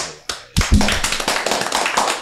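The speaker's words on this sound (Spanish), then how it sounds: "Un aplauso." Applause to welcome a new year opens a Spanish-language talk show. Clapping starts abruptly after a short pause, quick and close, with a few sharp claps standing out near the start.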